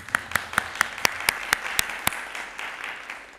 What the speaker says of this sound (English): Round of applause for those people.